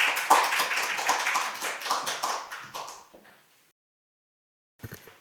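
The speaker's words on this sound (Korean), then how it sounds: "박수로 청해드리겠습니다" Audience at a National Assembly policy debate claps to welcome a presenter to the podium, a close burst of dense applause that thins out and fades to silence after about three seconds, followed by a brief sound near the end.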